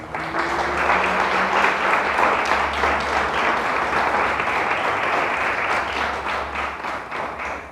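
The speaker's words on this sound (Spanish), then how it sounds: "Dale un fuerte aplauso al Señor" A church congregation bursts into strong, sustained applause, a dense wash of many hands clapping together that holds steady for several seconds and then begins to taper off.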